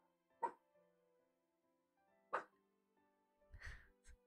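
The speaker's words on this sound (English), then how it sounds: "He's barking because his sister's barking downstairs." A dog indoors gives two sharp, separate barks a couple of seconds apart, then a rougher, lower bark-like burst and a short final yelp, fairly close over a quiet background.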